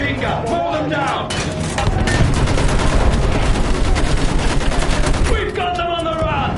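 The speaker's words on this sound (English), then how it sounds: "Use that machine gun! Mow them down!" Sustained rapid machine gun fire and battlefield gunfire in a World War shooter game, loud and dense for several seconds amid a chaotic mix of shots, with a voice shouting orders over it.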